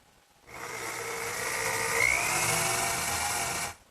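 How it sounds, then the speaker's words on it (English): A power drill fitted with a 1/4-inch brad point bit whines steadily for about three seconds while drilling holes, starting and stopping cleanly, close and fairly loud with no talking. "I've marked out the location where I have to drill the holes"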